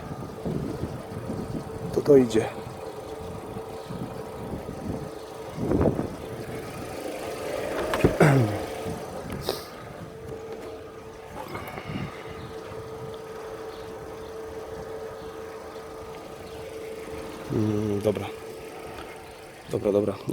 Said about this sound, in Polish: Zaraz powinna odpalić, ten silnik się powinien ten...